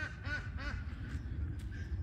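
Goose honking in a farmyard, several nasal calls in a quick series near the start, then quieter squawks, against steady low outdoor rumble.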